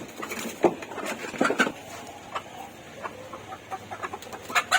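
Domestic desi hens cluck intermittently in short, uneven bursts at close range, with soft pattering and scuffling between calls and no voices.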